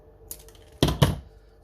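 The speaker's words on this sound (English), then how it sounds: "So I'm just going to trim this off first, just with some scissors." Scissors trimming a printed cardboard gingerbread cake kit: a faint tap, then two close, crisp cutting snips in quick succession.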